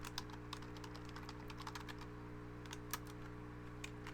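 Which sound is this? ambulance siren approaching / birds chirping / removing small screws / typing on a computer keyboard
typing on a computer keyboard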